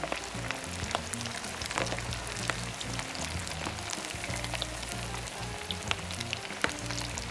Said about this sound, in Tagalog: So, this will fry for about 2 to 3 minutes maximum.